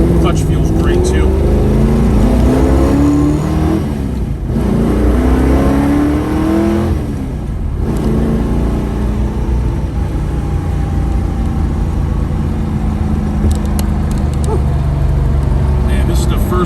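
A 1980 Chevrolet Camaro Z28 pro-touring car with a Magnaflow exhaust accelerates steadily through its gears with a manual clutch. Loud, continuous engine roar rises and falls through several shifts.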